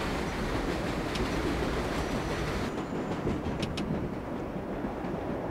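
A subway train runs in the World of Subways video game, a loud, steady rumble of wheels on rails with faint clicks near the cab.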